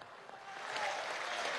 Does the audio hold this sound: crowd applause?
yes